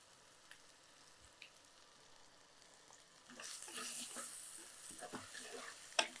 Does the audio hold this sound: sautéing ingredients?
yes